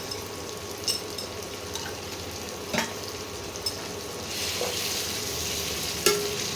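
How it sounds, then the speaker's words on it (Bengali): Ginger garlic paste and softened tomato masala fry in a pan for green chicken, with a steady sizzle. Scattered utensil knocks and scrapes come from stirring, and the frying swells louder near the end. "এবারে ভালো করে মশলাটাকে কষাতে হবে।"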